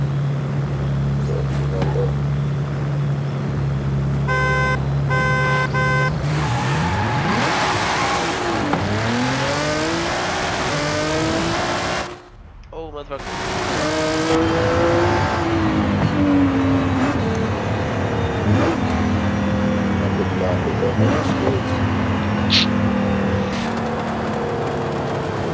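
A 2020 Nissan GT-R Nismo in Forza Horizon 5 drives loud and up close, its engine note climbing and falling through repeated rev sweeps. The engine cuts out briefly midway, then revs and pulls again.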